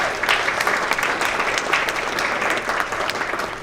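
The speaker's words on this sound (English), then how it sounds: "Give her a round of applause." An audience at a charity awareness gala claps steadily, a dense, even wash of applause filling the room from start to finish with no voices on top.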